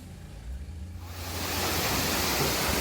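A waterfall's roar in Laos swells in after a second, becoming a loud, steady rush of falling water into a swimmable pool that fills the scene.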